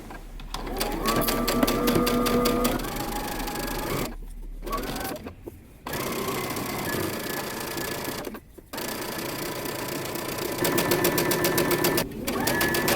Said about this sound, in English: I'm approaching my first pin, so I'm going to stop there and back stitch